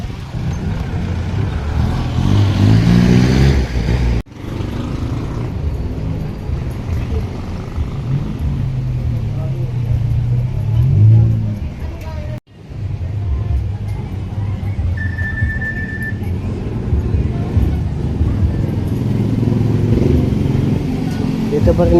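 Motor tricycles and other vehicles idling and passing at a busy tricycle terminal in Pacita Complex, San Pedro, Laguna, with steady engine rumble rising and falling close by and a brief horn-like tone midway.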